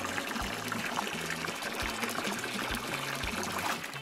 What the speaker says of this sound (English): let me start by giving you a rinse.